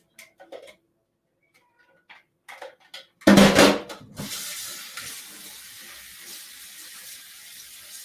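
Water from a kitchen tap gushes into a bowl to soak ingredients, starting abruptly after a few quiet clinks and settling into a steady, moderately loud stream.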